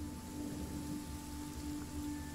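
Rain falls steadily in the video game Genshin Impact as a soft, continuous patter, faint and even throughout with no voices.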